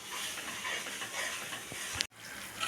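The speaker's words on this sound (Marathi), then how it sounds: "बघा, आपला मसाला आता छान फ्राय झालेला आहे। छान त्याने तेल सोडलेलं आहे।" Spice masala of coriander powder, red chilli, turmeric and cumin powder frying in oil in a pan, a steady soft sizzle and hiss with light stirring scrapes, with a brief cut near the end.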